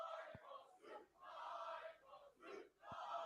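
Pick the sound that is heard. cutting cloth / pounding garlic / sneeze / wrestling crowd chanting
wrestling crowd chanting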